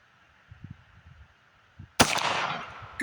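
A single loud shot from a .44 Magnum Handi-Rifle firing cowboy loads at an outdoor range cracks sharply after quiet rustling, then rings out in a long decaying echo.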